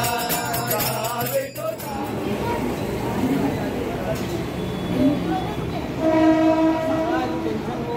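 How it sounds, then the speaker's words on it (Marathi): A Mumbai local train pulls into a station with a loud, sustained horn blast at the start and again near the end, wheel and carriage rumble in between, under station crowd noise and nearby talk. "तर चला मित्रांनो, आता ट्रेन आली आणि आम्ही आता ट्रेन मध्ये चढणार आहोत"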